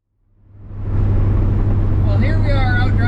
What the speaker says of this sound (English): Well, here we are out driving around.